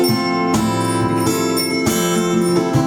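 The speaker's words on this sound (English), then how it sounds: "just stop, look and listen for the bicycle bell" A bicycle bell strikes repeatedly with bright ringing tones, each chime sustaining and overlapping the next, in a clear and fairly loud sequence.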